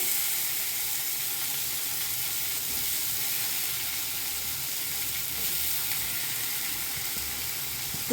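Teasel gourd frying in oil in a pan gives a steady, fairly loud sizzle and hiss that holds unbroken throughout, with a small clatter right at the end.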